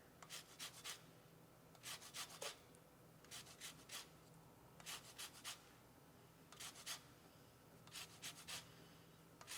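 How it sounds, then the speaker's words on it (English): A lime is gently rubbed over a handheld zester, giving soft, faint scraping strokes in short repeated bursts, a steady rhythm with brief pauses between passes. "So you just want to gently rub the lime over your zester"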